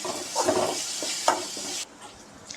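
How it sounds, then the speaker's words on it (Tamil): Green chilli and shallot paste sautés in oil over a medium flame. It gives a close, hissing sizzle with a few stir scrapes, then drops abruptly to quiet. "இதை வந்து ஆயிலில் சேர்த்துட்டு அடுப்பை மீடியம் ஃப்ளேமில் வச்சுட்டு ஒரு ஒரு நிமிஷம் இதோட பச்சை வாசனை போகிற அளவு மட்டும் வதக்கிக்கலாம்"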